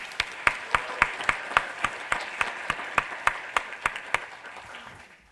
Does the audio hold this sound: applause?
yes